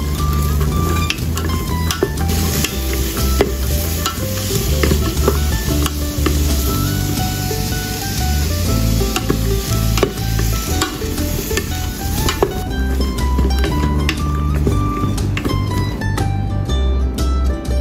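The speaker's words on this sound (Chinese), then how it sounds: "炒香炒软洋葱，" Onions stir-frying in a pan, a loud continuous sizzle with frequent scraping and clinks of the spatula against the pan throughout, close up and without talk.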